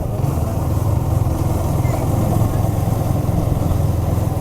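A scooter's engine holds a steady, rough, continuous drone through a wheelie, close and fairly loud, with faint voices mixed in.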